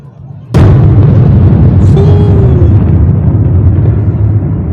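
A sudden, loud blast booms close by, followed by a long rumbling roar that slowly fades; a military strike on air defense radar antennas in Venezuela.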